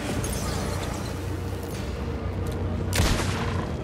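Gunshots in the video game Alan Wake 2, a burst of booming shots over a rumbling low game ambience, with a sharp louder blast near the end.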